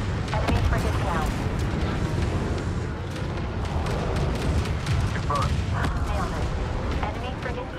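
Frigate weapons in the Homeworld 3 space strategy game fire in a dense, continuous barrage of booms and blasts, loud and sustained throughout with layered explosions and rumble.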